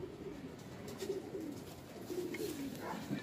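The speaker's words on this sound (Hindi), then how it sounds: "ये कबूतर काफ़ी ज़्यादा हैं" Punjabi pigeons coo softly and repeatedly in a low, throaty murmur, faint and continuous against light background noise.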